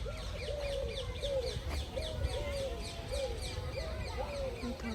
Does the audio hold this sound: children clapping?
no